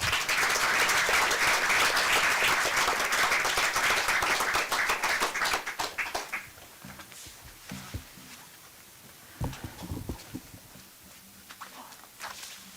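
Audience applause at a school board of education meeting, loud and steady clapping from a crowd for the first several seconds, then thinning out to scattered claps and room noise.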